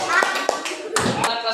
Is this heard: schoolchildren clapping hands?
yes